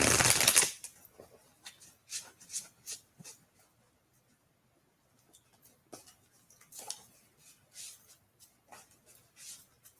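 Tarot cards are shuffled in bursts of soft riffling and tapping, close by, with a quiet pause in the middle before more shuffling.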